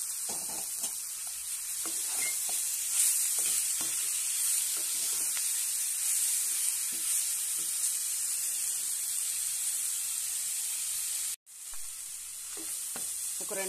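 Broad beans stir-frying in a hot pan with chilli, a steady loud sizzle running throughout with faint stirring scrapes, briefly cut off near the end before resuming.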